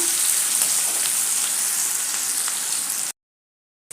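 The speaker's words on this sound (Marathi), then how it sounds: "कांदा गुलाबी रंगावर येईपर्यंत परतून घ्यायचा आहे" Chopped onion fries in a pan as the base for pav bhaji, giving a close, even, bright sizzle that runs steadily. It then cuts out into a brief silence before resuming.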